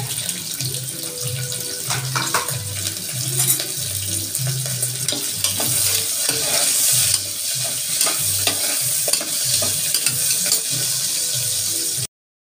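Onion and green chillies sautéing for veg biryani, a spatula scraping and stirring in repeated strokes over a continuous sizzling hiss, close and loud with no talking.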